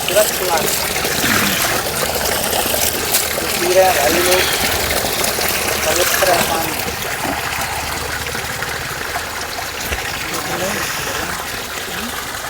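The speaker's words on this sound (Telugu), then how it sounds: "ఇక్కడ చూడండి లోపల నుంచి వస్తున్నాయి వాటర్" Spring water flows out from inside the rock at Chilakalagutta hill near Medaram, a continuous close trickling wash over a steady water rush, with some voices faintly mixed in.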